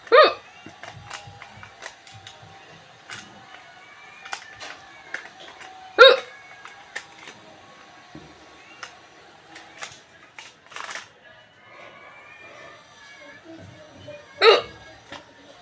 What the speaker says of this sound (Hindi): हम चाहे तो हिचकी को रोक सकते हैं